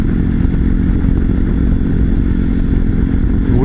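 A Honda Cross Cub 110 fitted with a Moriwaki muffler runs with a steady, rumbling low engine note, heard close and loud from the rider's position with wind buffeting and no speech over it.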